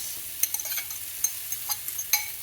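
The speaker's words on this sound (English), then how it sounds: "Listen to that sizzle." Sweet potato frittata with vegetables and egg sizzles steadily in a hot pan, a soft hiss broken by brief clicks and scrapes as it is stirred.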